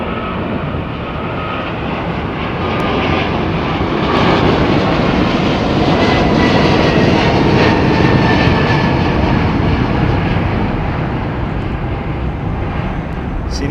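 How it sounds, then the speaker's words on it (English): Loud, sustained jet roar from a United Boeing 777-200 with Pratt & Whitney engines departing Heathrow, swelling slightly in the middle and staying dense and continuous with no talk over it. "See, now that's a United 777-200. I think that's probably got Pratt & Whitneys."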